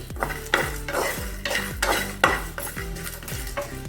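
Poppy seeds, cumin and fennel are dry-roasted in a pan, a utensil scraping and knocking against the metal in regular sweeping strokes about twice a second, close and loud with no speech.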